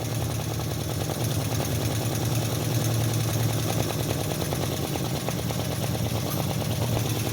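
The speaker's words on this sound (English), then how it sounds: "You can hear that vacuum engine going nuts." A small model V-twin vacuum engine runs flat out with a dense, steady mechanical chatter and low hum, close and continuous with no pauses.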